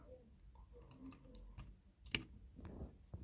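A few quiet, sharp plastic clicks from a Logitech G502 mouse's middle button switch, close and sparse, with faint handling noise between them.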